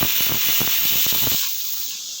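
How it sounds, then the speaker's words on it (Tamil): A steady, loud steam hiss from a pressure cooker's release while cooking sweet potatoes, with rapid pulsing bursts in the first part before settling into a smooth continuous hiss. "இப்போ ப்ரெஷர் குக் வச்சிடலாம். ஸோ ஒரே ஒரு விசில் வச்சா போதும்."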